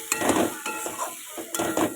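Tomatoes frying in a pan for a fish curry, a close sizzle broken by repeated bursts of stirring and spatula scrapes against the pan, with no talking.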